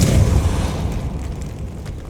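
A Repulsor spell blast in the video game Hogwarts Legacy: one loud, close boom with a deep thud that fades into a rumbling tail over about two seconds.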